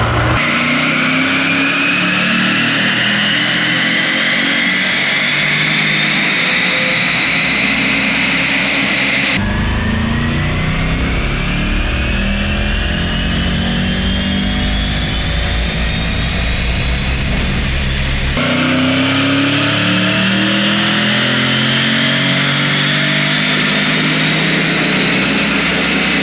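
A stock Mercedes E63S loaded on a dyno roars through repeated loud revving pulls, its engine note climbing steadily in pitch, dropping off, then surging again across three sustained runs with no talking.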